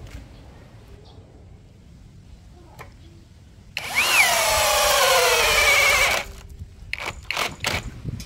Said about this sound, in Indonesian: Di sini saya menggunakan mata bor auger 19 mm ya teman-teman ya. Untuk media pengeboran masih sama, kayu mahoni.